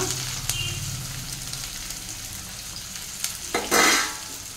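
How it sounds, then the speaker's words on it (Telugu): Two medium onions frying in hot oil with mustard and cumin seeds, giving a soft continuous sizzle with scattered light crackles and a louder burst of hissing near the end, close and without speech. "ఇప్పుడు 2 మీడియం సైజ్ ఆనియన్ అండి వేసేసుకున్నాను."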